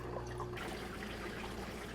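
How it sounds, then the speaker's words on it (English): Water drains from a Grownsy baby bottle washer and sterilizer into a sink as a steady, quiet trickling wash, low in level and continuous throughout. "it's actually draining in the sink the rest of that water"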